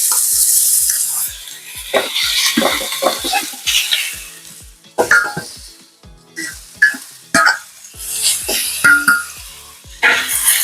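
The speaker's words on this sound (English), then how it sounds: "So I'm going to go ahead and start putting the rest of it in." Cajun-spiced sliced pork loin hitting hot oil and frying, with sharp crackling sizzles and repeated clinks and scrapes of stirring in the pan, loud and close, no talking.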